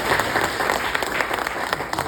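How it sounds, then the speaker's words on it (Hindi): Audience applause fills the whole stretch, steady and dense with many hands clapping at once, close and loud, with a faint voice or two underneath. "ताली बजा दो भाई।"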